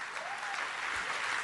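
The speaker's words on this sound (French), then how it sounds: "Je vais vous demander d'applaudir encore ces merveilleux musiciens qui sont avec moi." A concert audience at a live show applauds the musicians in a brief, steady patter of clapping, moderately quiet and continuous without voices.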